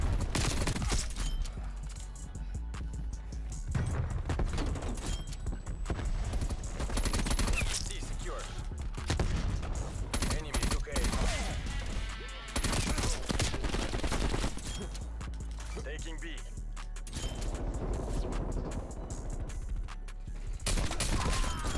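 Dual Magnum pistols in Black Ops Cold War fire in rapid, loud bursts, with dense repeated gunshots, brief pauses between volleys and faint talk underneath.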